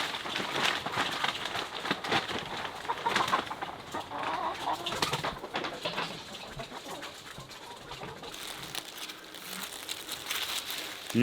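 Hens clucking and cooing softly as they are fed seed, with scattered rustling and crinkling of feed, fairly close and intermittent, no talk over it.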